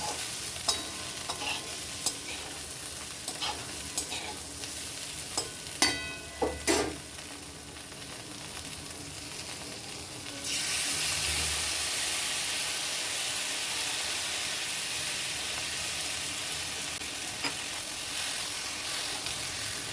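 Steady sizzle of vegetables frying with scattered stirring clatters early on, then the sizzle jumps louder and fuller as a wet ground spice paste hits the hot pan.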